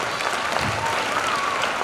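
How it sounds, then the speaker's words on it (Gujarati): Steady, dense applause from an audience at an honouring ceremony, continuous clapping with no break. "જોરદાર તાળીઓ પાડી આપણે."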